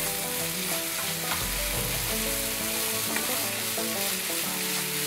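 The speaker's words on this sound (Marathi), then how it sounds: "आता ह्याच्यात आपण टोमॅटो घालूया। हा टोमॅटोही थोडा मऊ होईपर्यंत परतून घ्यायचा आहे।" Tomato sautéing in a pan with onion, ginger and garlic over a medium flame for an egg dish, giving a steady close sizzle with occasional stirring scrapes throughout.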